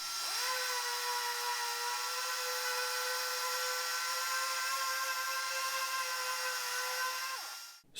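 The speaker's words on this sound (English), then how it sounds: "We're going to test it by sanding this pine board here with my orbital sander." Orbital sander working a pine board on a downdraft sanding table, a steady high-pitched electric whine with a sanding hiss that holds for about seven seconds and then winds down as the motor stops.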